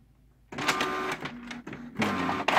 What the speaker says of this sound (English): Very noisy scanner.